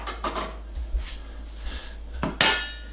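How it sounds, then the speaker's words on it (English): Mayonnaise spooned into a bowl for potato salad: a few close clinks and scrapes of a utensil against the dish, scattered and uneven, ending in a sharper knock. "we're going to start by adding 1 cup of mayonnaise"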